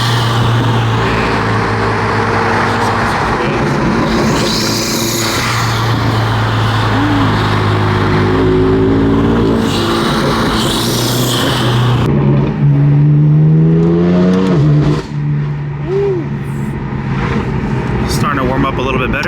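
A BMW M4 drives on the street while warming its tires, the engine droning steadily and rising in pitch through a couple of accelerations, under ongoing conversation inside the car.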